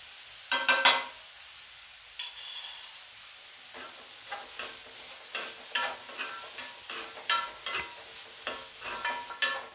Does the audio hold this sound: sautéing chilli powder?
yes